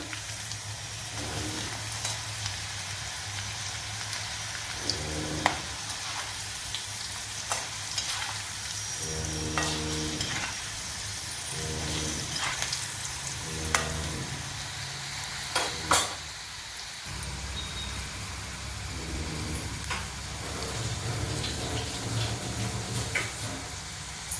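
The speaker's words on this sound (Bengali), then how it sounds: "যতক্ষণ এটা লাল হবে ততক্ষণ এটা ভাজতে হবে।" Okra (bhindi) frying until crispy and red in a pan of oil, a continuous dense sizzle with occasional soft stirring and scraping, close and steady, no voices.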